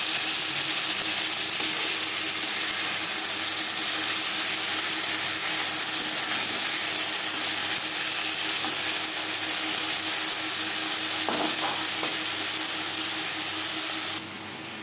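Pieces of boal fish sizzle continuously in hot oil, with a short clack near the end as a piece is turned over to its other side.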